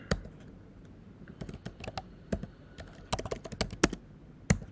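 Rapid, irregular clicks of a computer keyboard as code is typed, in short bursts of keystrokes close to the mic, with no voice over them.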